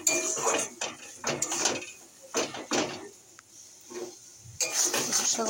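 Taro leaves cooking with crab in a pot, stirred hard with a metal spoon in repeated clanking scrapes against the pot, close and fairly loud, with a faint hiss underneath.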